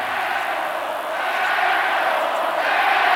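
A wrestling arena crowd at a WWF Sunday Night Heat event in January 2000 keeps up a steady, loud roar of booing aimed at Kurt Angle, a dense wash of voices with no break from start to finish.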